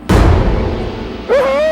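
A gunshot in a Hindi-Urdu short film drama: one loud, booming crack that decays over about a second, followed by a voice crying out.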